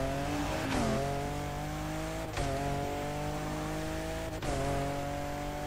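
A Toyota Supra MK5 engine in The Crew Motorfest video game revs hard, climbing through gears with three sharp shift breaks, a loud continuous buzzing drone with no talk over it.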